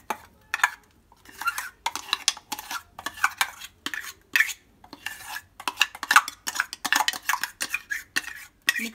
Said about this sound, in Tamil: இந்த அரைச்ச பேஸ்ட்டை ஒரு பவுலில் நம்ம மாற்றிக்கலாம்.